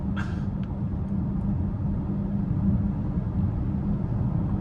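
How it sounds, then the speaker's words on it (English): Inside a 2025 BMW X5 M60i on large wheels while driving, a steady low tire-and-road rumble holds throughout at moderate level, with a brief faint click near the start and no talking. "But road noise is surprisingly pretty good, even with these bigger wheels on here."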